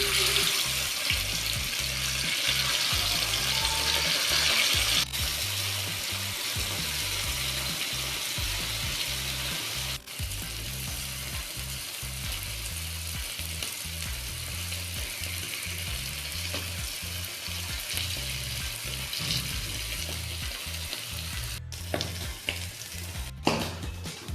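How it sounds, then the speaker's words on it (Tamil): Fish fries in hot coconut oil in a pan, a steady close hiss and sizzle that runs throughout, with a few faint clatters near the end and no voices. "எண்ணெய் நல்லா சூடானதுக்கப்புறம் ஃபிஷ் அதை சேர்த்துக்கலாம்."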